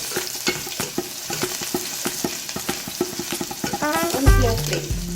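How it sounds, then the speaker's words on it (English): Ginger and garlic frying in hot oil over a low flame for homestyle moong dal: a busy crackling sizzle with rapid spoon taps and scrapes, joined near the end by a brief burst of music. "now I'm adding ginger and garlic. So now we will cook this for about 2 minutes"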